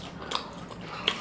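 Crunchy, sweet food bitten into during a hot sauce wing challenge, giving two quiet, sharp crunches about three-quarters of a second apart over a low background, with no talking.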